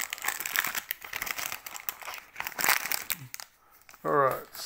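A foil booster card pack wrapper being torn open and crinkled, close crackling rustles in bursts, with a voice speaking briefly at one point.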